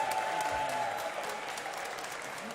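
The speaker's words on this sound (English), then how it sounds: "Abortion rights supporters in the Maryland General Assembly cheering the arrival of Governor Wes Moore today at a joint press conference" Legislators and onlookers in the Maryland State House in Annapolis cheer and clap for Governor Wes Moore's arrival at a joint press conference, a sustained roar of applause from a large indoor crowd that eases slightly toward the end.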